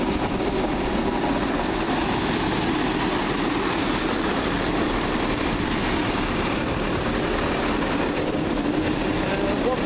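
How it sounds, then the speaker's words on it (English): CrossCountry passenger train departing Wolverhampton station on a Manchester Piccadilly to Bournemouth service, a steady loud engine rumble and rolling rail noise filling the whole stretch. "12:41 cross-country service of Manchester Piccadilly to Bournemouth via Birmingham New Street, Reading and Southampton Central departs"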